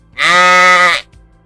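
A single loud, sustained bleat lasting nearly a second, close by, with near silence before and after.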